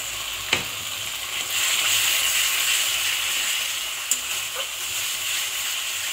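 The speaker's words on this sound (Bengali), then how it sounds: "ভালো করে মশলাটা গুঁড়ো মশলার সাথে কষিয়ে নিচ্ছি।" Masala for egg curry sizzles steadily in a pan with salt, turmeric, Kashmiri red chili powder and a little water, a close, continuous frying hiss with occasional sharp stirring clinks.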